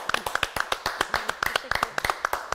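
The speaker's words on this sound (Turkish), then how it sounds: "Harikaydı, bence bir kez daha alkışlayalım." Rhythmic clapping from a studio audience on a Turkish TV quiz show, a steady run of sharp, close hand claps with a few individual claps standing out, loud and continuous for a couple of seconds.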